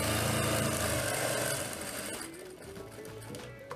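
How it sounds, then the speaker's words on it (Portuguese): A sewing machine runs steadily, stitching around the edge of a double-sided fabric placemat: a dense, continuous mechanical whir that is loud and close, easing slightly toward the end. "E agora vamos para a máquina passar uma costura na volta da peça."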